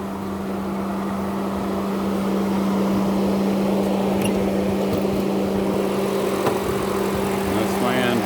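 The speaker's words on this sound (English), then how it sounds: "That's my engine." A 2008 BMW X5 engine idles with the hood open in a parking lot, giving a steady, even hum with a constant low drone and faint ticking, heard up close with no talk.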